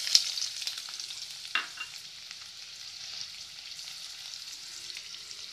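Chopped onions sizzling steadily in hot oil for a caramelized onion topping, a continuous close hiss with a brief spatter or stir near the start, no talking.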